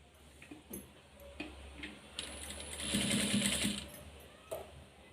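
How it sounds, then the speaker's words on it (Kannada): A sewing machine stitches piping onto the round neckline of a blouse, a quiet mechanical run with soft ticking that builds to a steadier, louder burst midway before easing off. "ಬ್ಲೌಸ್ ಮೇಲೆ ಮಧ್ಯದಲ್ಲಿ ಇಲ್ಲೇ ಸ್ಟಿಚ್ ಮಾಡ್ಕೋಬೇಕು."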